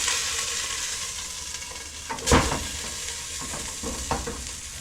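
Beans frying in a pan over medium heat give a steady close sizzle, with one sharp clatter as they are flipped midway and a few softer scrapes after, no talking.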